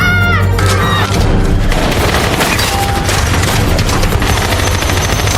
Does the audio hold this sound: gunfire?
yes